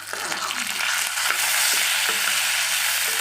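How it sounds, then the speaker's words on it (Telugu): Makhana (fox nuts) frying in a pan while a potato and Bombay rava mixture is made, giving a steady close sizzle with a few stirring scrapes and no talk. "ఇంకొక కప్పు 2 కప్స్ మకానా యాడ్ చేస్తాను. ఇది మొత్తం బాగా ఫ్రై అవ్వాలి."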